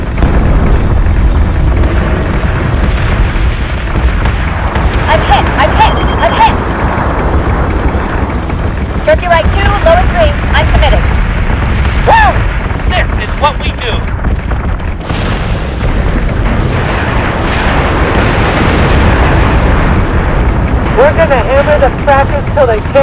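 Ship guns fire and explosions rumble through a space battle in Battlestar Galactica Deadlock, a dense, loud, continuous low roar with scattered bursts and tonal effects, while a voice speaks over the action.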